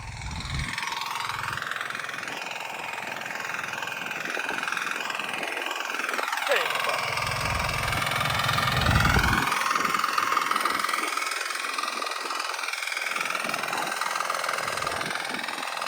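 A two-wheel patpat tractor tilling a garden field, its engine running steadily throughout with pitch rising and falling as it works the soil, alongside intermittent voices.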